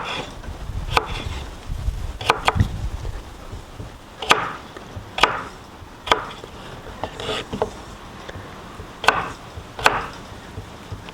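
Sharp kitchen knife chopping potatoes on a wooden board, a string of crisp, irregularly spaced cuts, close and clear, with no talking.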